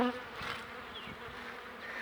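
A dense, steady buzzing of many bees at a beehive, close and fairly quiet, with individual insects droning past over the constant hum.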